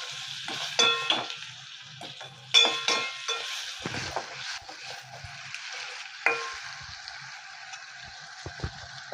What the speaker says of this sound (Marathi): कांदा छान गोल्डन रंगावर आपण परतून घेणार आहोत